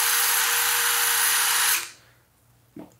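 A compact DeWalt cordless impact driver whirs loudly and steadily, then winds down and stops, followed by a faint clunk.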